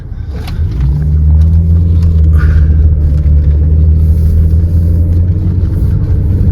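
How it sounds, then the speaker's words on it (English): A BMW car drives off-road with a loud, steady low engine rumble that swells in the first second and holds, with faint knocks and rattles over it and no talk. "Who says you can't take BMWs off-road?"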